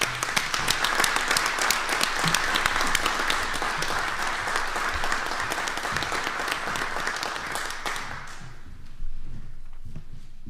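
An audience at an awards meeting applauds an athlete with sustained, dense clapping, close and loud, before it thins out and dies away near the end.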